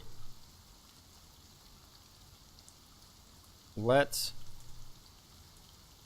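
Rain falls at night in the video game Battle Brothers: a faint, steady hiss of rainfall runs throughout, briefly overlaid by a voice.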